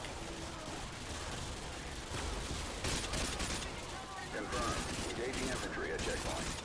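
Gunfire from the Modern Warfare 2 campaign on Veteran difficulty: dense bursts and volleys of shots throughout, with talk mixed in over the battle noise.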